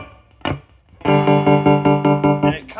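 A 1960s Ampeg Rocket 2 combo amp plays a guitar chord through its Afterbeat effect, the sustained tone chopped hard into a fast, even pulsing rhythm, loud and close, after a single plucked note.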